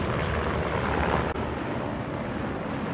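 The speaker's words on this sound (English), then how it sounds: "The helicopter is right above us, guys." A helicopter in the military shooter game Squad hovers overhead, filling the scene with a dense, steady rotor and engine roar that holds close and loud from start to finish.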